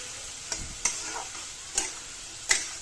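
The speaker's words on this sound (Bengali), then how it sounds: "আলুগুলো দিয়ে আমি এখন ভালো করে কষাচ্ছি যতক্ষণ না তেল ছাড়ে" Potatoes sautéed in oil with cumin, chilli powder and green chilli for a prawn curry give a soft, steady sizzle, broken by four sharp spoon scrapes against the pan at uneven intervals.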